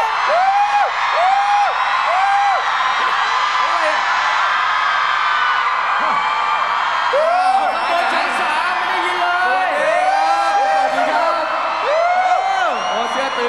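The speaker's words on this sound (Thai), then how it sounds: "ขอเสียงกรี๊ดตลอดเลยได้ป่ะ ต้องขอเสียงกรี๊ดด้วยนะ" A large crowd of concert fans screams and squeals continuously, loud and near, with rising shrieks and whoops overlapping throughout.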